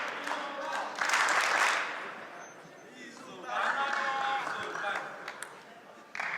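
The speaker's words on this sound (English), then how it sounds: "It sounds like we've got some other Polish fans here cheering MIZUTANI." Fans at the 2016 Polish Open men's singles table tennis final applauding and cheering for Mizutani, bursts of clapping and crowd noise in a large hall that swell and fade, with a commentator talking over them.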